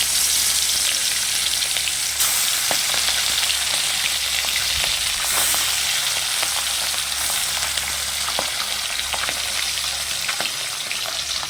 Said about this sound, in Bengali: ভেজে নেওয়া মাছগুলোকে একটু কড়া ভাজাই করব।